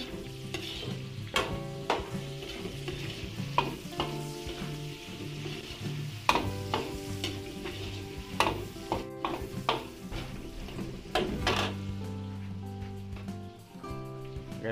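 Onions sauté in a hot pan for a Filipino home dish, a steady loud sizzle broken by frequent clanks and scrapes of a metal utensil stirring against the pan, with a faint tonal hum behind.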